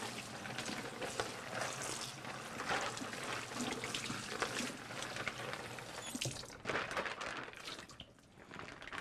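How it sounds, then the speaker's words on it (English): Water from a kitchen sink sprayer splashing and trickling over a plastic baggie being rinsed, a continuous close hiss of running water with crinkly shifting as it is moved. "just rinse it out"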